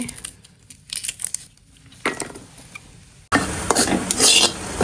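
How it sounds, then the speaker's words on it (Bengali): Dry scraping and stirring in a metal wok with no oil, only a little salt, with a spatula rattling against the surface; the stirring grows louder and busier in the second half, with no talk. "তেল কিছু দিব না, শুধু হালকা একটু লবণ দিয়ে আর কি ভাজতেছি"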